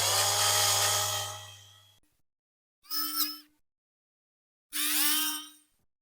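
A small power drill boring into the base of a Matchbox F1 Racer diecast car, three separate whining bursts of drilling, the first long and loud, then two shorter ones, with silent pauses between.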